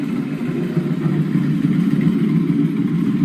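A turbocharged C6 Corvette ZR1 with a flex cam tune and its exhaust valves closed, a muffled, steady engine drone held evenly for a few seconds with little rise or fall; nobody speaks.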